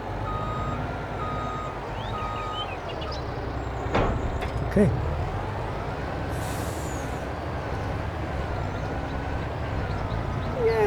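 Truck driving in Farming Simulator 22, a steady engine drone with reversing-style beeps and a brief air-brake hiss, with a voice speaking briefly over it.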